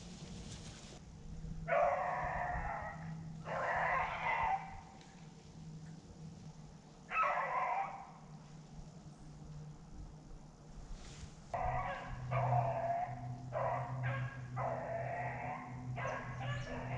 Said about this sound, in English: Two more beagles,